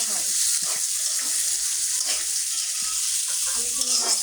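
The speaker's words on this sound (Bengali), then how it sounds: "এখন এটা তেলে ভাজবো, সুন্দর করে ভাজবো" Food frying steadily in hot oil for an iftar dish, a dense continuous sizzle with occasional stirring scrapes, close and fairly loud, no talking.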